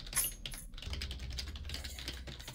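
Computer keyboard keys clatter in quick, irregular bursts of typing during a Roblox Flee the Facility game, close and fairly soft with a low hum underneath.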